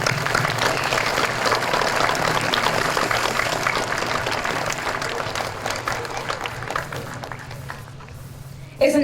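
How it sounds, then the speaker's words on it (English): A crowd at a Veterans Day ceremony applauds for veterans, a dense, loud, sustained wash of clapping that holds steady and then tapers off near the end. "I'd like to give a round of applause to all the silent ranks"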